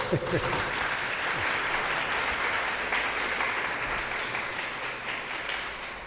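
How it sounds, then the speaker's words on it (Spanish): An audience at a keynote lecture event of Peru's National Elections Jury applauds with sustained, steady clapping that fills the room, with faint voices mixed underneath. "para quien pido un fuerte aplauso, por favor"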